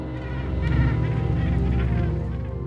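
Gannets calling at a crowded nesting colony, a dense overlapping chorus of harsh, honking cries close by and continuous, with no talk.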